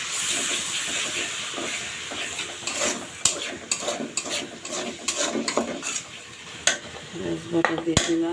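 Onion paste for a chicken roast fries and is stirred in a pan, with a sizzling hiss under repeated metal spoon scrapes and clanks against the pot, growing busier toward the end.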